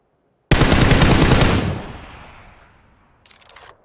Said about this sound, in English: Oh, that's shooting right there.